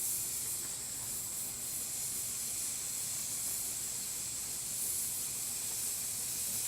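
A steady, close roaring hiss of a homemade water-bottle alcohol stove burning with water boiling over it, continuous and unchanging throughout.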